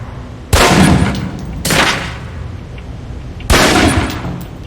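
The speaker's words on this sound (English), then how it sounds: "Equip the pistol, then aim down range and take some shots at the target." Three sharp pistol shots fired at a target range in Alpha Protocol, each a loud crack with a short decaying tail, spaced unevenly about a second and then nearly two seconds apart.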